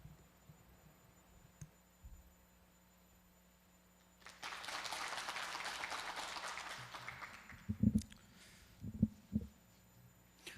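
Audience applause at a women's peace forum event in Jeonbuk, a broad clapping wash rising over about three seconds then tapering, followed by a few close thumps and handling noises over a steady low hum.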